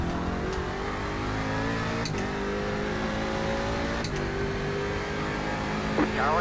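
Several racing cars roar past in a racing video game, steady engine drone with pitch sweeps as cars pass around two and four seconds, a brief voice near the end.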